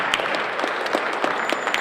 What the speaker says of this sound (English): Let's give a round of applause for Mr. Howard Scott.